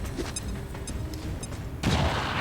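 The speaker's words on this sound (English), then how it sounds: "I might have her frag the guy in the back." A frag grenade explosion in the XCOM 2 video game: muffled gunfire-like pops first, then a sudden heavy blast that swells loud and lingers through the end.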